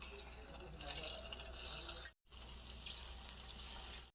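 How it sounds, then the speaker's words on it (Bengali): Egg balls frying in hot oil, a soft, even crackling sizzle that runs steadily, cuts out briefly and then resumes, faint and close. "তেল গরম হয়ে গেছে, এক এক করে ভেজে নেব।"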